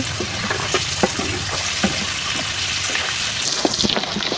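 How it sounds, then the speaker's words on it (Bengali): Pieces of hilsa fish and fish roe fry in a pan with a steady, close sizzle, punctuated by regular scraping and tapping as the food is stirred. "ভালো করে ভেজে নিব"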